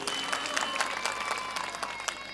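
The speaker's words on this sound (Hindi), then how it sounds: "इसके लिए एक बार ताली बजा दो साउंड वाले के लिए।" An audience at an outdoor Bahujan poetry gathering in Jahangirabad, Bulandshahr claps briefly for the sound operator, a scattered, moderately faint burst of hand claps with a few sharper individual claps standing out.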